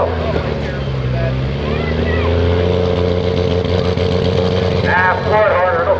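A pro mod diesel 4x4 pulling truck with one misfiring cylinder runs at a diesel truck-pulling event, a loud, close, continuous engine drone that holds steady throughout while an announcer talks over it.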